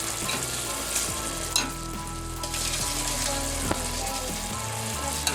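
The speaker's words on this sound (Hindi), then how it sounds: "ये मटर को हमने 8 मिनट के लिए इसमें भून लिया है। अब हम इसमें चावल शामिल कर लेते हैं।" Peas and rice frying in oil in a pot, with a steady close sizzle and a few scraping stirs of a spoon, alone without talk.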